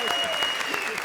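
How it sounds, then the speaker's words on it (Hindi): A studio audience at a comedy show claps steadily in a dense burst of applause, with voices talking over it. "अरे जोरदार ताली बजाइए"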